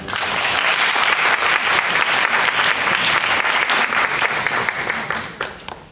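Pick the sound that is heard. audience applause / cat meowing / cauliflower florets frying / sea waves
audience applause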